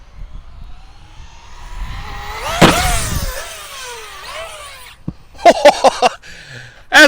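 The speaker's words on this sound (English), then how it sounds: "we're going to give the Typhon its first send here. This thing usually flies like a rocket." An Arrma Typhon 6S RC car launches off a jump on a grassy field, its electric motor whining up to a loud rising pitch mid-clip, then a series of sharp clattering bangs as it lands and tumbles.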